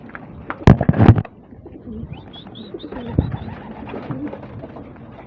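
Racing pigeons coo softly in low, rolling calls, with a couple of sharp knocks near the start and faint chirps above.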